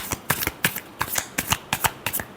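A deck of tarot cards is shuffled close up in a quick flurry of crisp riffling slaps lasting a couple of seconds.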